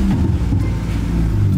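A car fitted with an add-on Ferrari exhaust sound revs loudly and close, a deep rumbling engine drone that stays steady and strong without pause.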